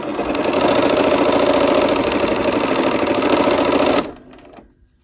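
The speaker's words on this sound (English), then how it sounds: "All right, we're here at the machine. Let's go ahead and sew those together." Sewing machine stitching quilt block fabric pieces together, a loud, close, steady mechanical whir for about four seconds that stops abruptly and fades out, with no talking.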